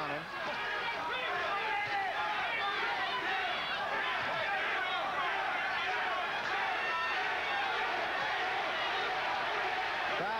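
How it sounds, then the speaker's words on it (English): Boxing arena crowd at a WBC heavyweight bout between Tim Witherspoon and Pinklon Thomas, a continuous dense roar of voices with rhythmic chanting rising under a commentator's talk. "Crowd going into a chant here."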